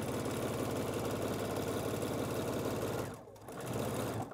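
Serger sewing machine stitching with a possible looper fault, a close, fast mechanical whirring hum that runs steadily, cuts out briefly near the end, then starts again.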